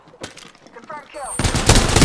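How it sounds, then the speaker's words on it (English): Gunfire in the Apex Legends shooter opens with a few sharp shots under voices, then a loud rapid burst of automatic fire sweeps in and keeps hammering to the end. "We were shooting at her at the same time."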